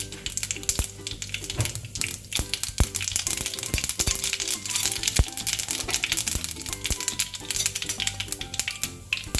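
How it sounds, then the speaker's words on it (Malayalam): Mustard seeds crackle and pop in hot oil for a Kerala-style fish curry, a dense, steady spray of sharp little snaps running throughout over a soft tonal backing. "കടുക് പൊട്ടിയിട്ടുണ്ട്."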